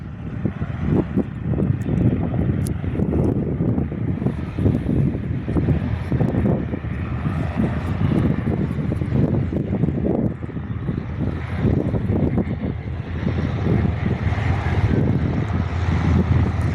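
On a windy day at an airfield, a Cessna C172 takes off while another plane does a touch and go, their droning propeller engines heard throughout beneath heavy gusting wind noise on the microphone.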